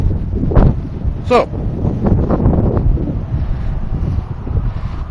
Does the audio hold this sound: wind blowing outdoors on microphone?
yes